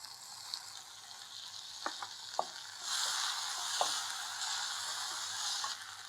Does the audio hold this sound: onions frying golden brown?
yes